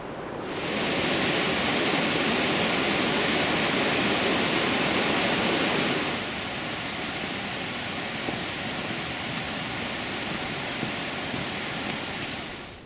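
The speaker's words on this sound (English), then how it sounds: "an amazing sight, a waterfall cut deeply into the rocks underneath" Waterfall cut deeply into rocks in a wooded dene, a steady rushing roar of falling water that is louder for the first six seconds and then settles to a softer, continuous wash.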